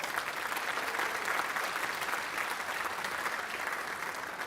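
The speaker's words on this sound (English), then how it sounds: "give them a round of applause." Concert audience applauds for an all-star brass band in a hall, producing a steady wash of many hands clapping that holds even and sustained throughout.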